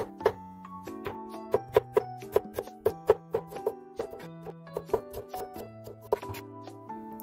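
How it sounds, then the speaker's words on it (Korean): A knife chops carrots on a cutting board while abalone porridge is prepared, sharp regular taps in a quick rhythm, close and clear, over faint background music tones. "당근도 적당한 크기로 채 썰어서 다져 놓겠습니다."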